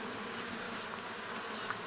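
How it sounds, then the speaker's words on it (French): Honey bees buzzing around a hive in New Caledonia make a soft, continuous insect drone, faint and steady, with no talking. "il y a des souches d'abeilles super douces"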